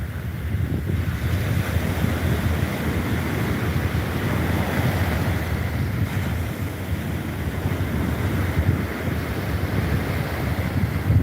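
Ocean waves wash steadily onto a beach, a continuous broad surf roar mixed with wind rumbling across the microphone, with no voices.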